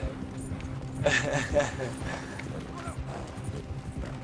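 Horse hooves clip-clop at a gallop in a video game, a steady rhythmic patter of moderate loudness running under voices talking throughout.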